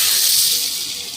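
Hot tempering with red chillies is poured over cooked ambe dal, giving a loud, brief burst of bright sizzling hiss that fades slightly.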